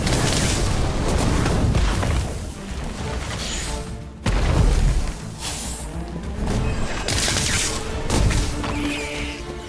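An Incendio fire spell in Harry Potter: Magic Awakened: heavy, booming magical blasts land one after another, each a loud whooshing impact with a crackling tail, in a constant roar of combat effects.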